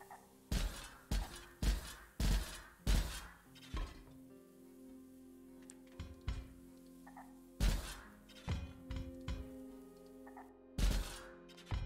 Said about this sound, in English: And we will start hitting the hammer